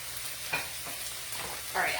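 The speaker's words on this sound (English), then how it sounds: "that's sauteing just a little bit." Food sautéing in a pan gives a quiet, steady sizzle, broken by a couple of brief scraping stirs.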